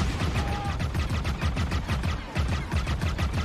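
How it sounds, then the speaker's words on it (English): Rapid, steady bursts of gunfire from the Star Wars Outlaws game trailer fill the whole stretch, a dense repeating rattle at constant loudness with heavy low-end thumps and no clear gaps. "What are you shooting at?"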